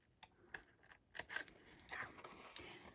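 Paper is cut with scissors for a treat box, giving a series of quiet, close, irregular snips and rustles with no talking.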